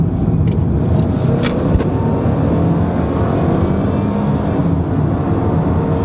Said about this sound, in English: I'll try to accelerate now so you can hear the engine.